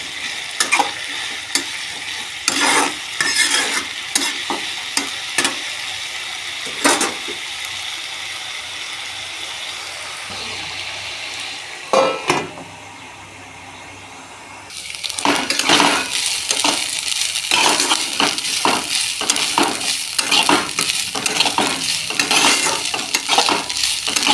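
Papaya curry stirred in a pan, a vegetarian papaya dalna with salt added, giving repeated scraping and sizzling strokes, then a lid clatters on and the sound dulls briefly before frying and stirring resume, close and steady.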